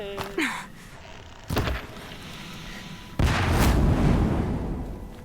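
Bombs are set off in the video game Horizon Zero Dawn, with a short electronic tone, then a thud and a heavy sustained explosive blast that roars on loudly to the end.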